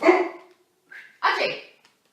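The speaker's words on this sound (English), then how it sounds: "dog going mad, someone being outside the house" A dog barks at someone outside a house, two or three sharp, close barks separated by short silences, loud and alone.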